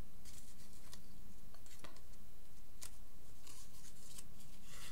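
A small vintage paper pouch being opened by hand, giving soft, close crinkling and rustling with a few sharper paper snaps spread through the quiet stretch.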